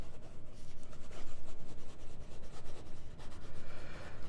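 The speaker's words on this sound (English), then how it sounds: "let's see how fast writing goes" A Stipula La Ventidue fountain pen scratches rapidly across paper in quick, rhythmic strokes, a close, dense rubbing texture that runs continuously with brief pauses between words.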